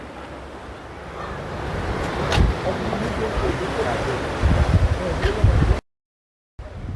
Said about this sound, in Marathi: हवा पण खूप जोरात येते